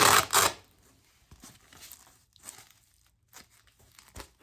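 A hook-and-loop cushion pad on a modular STRIX EDC carrier is pressed back into place, giving a loud crackling rip at the start and then a few fainter scratchy crunches spread through the quiet.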